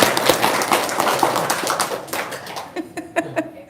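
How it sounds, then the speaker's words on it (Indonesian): Scattered hand clapping from a small group at an indoor sales talk, dense at first and then thinning to a few separate claps, with some voices murmuring beneath. "Tepuk tangan dong."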